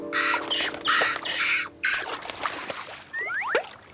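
Cartoon seagulls squawk by the sea, with a few short calls rising through a busy background of splashing water and music-like tones, fairly close and mid-loud, with no talking.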